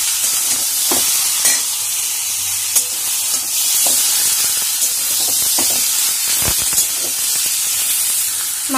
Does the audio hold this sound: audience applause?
no